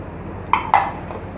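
Julienned carrots tipped into a large bowl for vegetable rolls, giving two short clinking knocks against the bowl, close and fairly quiet, with no talking.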